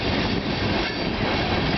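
Canadian National freight train of tank cars rolling past at Bayview Junction in Hamilton, Ontario, a loud close continuous rumble and rattle of wheels with no break.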